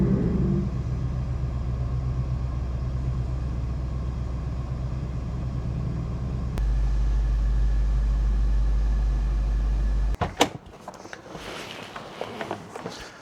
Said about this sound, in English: I will have to back this car in to get the rest of the car.